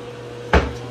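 A small bathroom medicine cabinet door opens with one short knock or clack midway, nearby over a steady room hum, with no talking.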